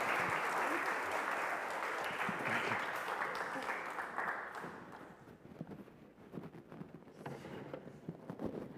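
An audience applauds a speaker being welcomed at a talk on democratic socialism, steady loud clapping that gradually thins and fades toward the end, with a few scattered claps and faint murmurs remaining.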